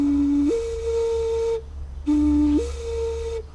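Coconut whistle from New Guinea blown twice, each a pure hollow tone that steps up from a lower pitch to a higher one and holds, with a short gap between the two blows.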